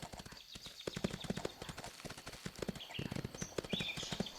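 Horse hooves clip-clop in a steady walking rhythm in the video game Windstorm: Start of a Great Friendship Remastered, close and fairly quiet over light ambient game sound.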